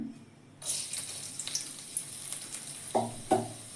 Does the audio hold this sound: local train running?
no